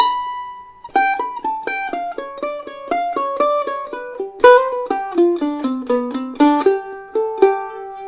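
Second half of the A section of Blackberry Blossom, played at practice tempo after a single sustained note: a clean, close sequence of plucked notes that climbs and then slides down into lower notes, ending on a ringing tone.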